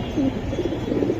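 Pigeons coo in a low, repeated murmur close by, several soft rolling calls over steady background noise with no talk.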